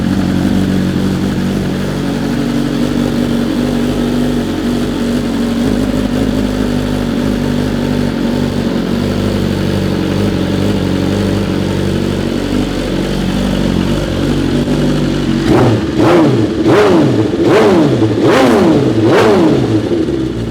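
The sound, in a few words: BMW M1000RR motorcycle revving with broken-in aftermarket exhaust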